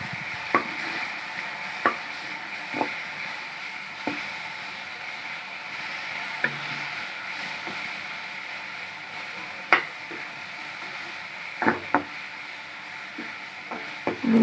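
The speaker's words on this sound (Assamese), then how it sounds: "এতিয়া ভালদৰে ভাজি ল'ম।" Chopped tomato, ginger and garlic cooking in a pan give a faint low sizzle, broken by sharp scattered clinks and taps of a spoon stirring against the pan, irregular and close.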